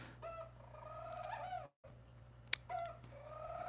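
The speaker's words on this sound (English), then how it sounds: "Oh, that's my bird singing." A pet bird sings indoors in a fish room setting, with warbling, chirping phrases close by, broken by a brief pause and a sharp higher chirp.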